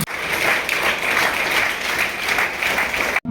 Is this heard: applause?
yes